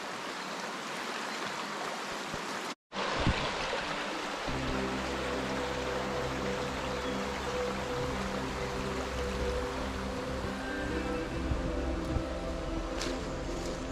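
The small Bruyant river flows steadily through its gorge in the Vercors, a continuous broadband rush of water close by with a low droning hum joining partway through.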